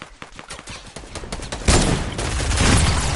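Video game gunfire, a rapid burst of shots that swells into loud sustained firing in the second half, with no talk.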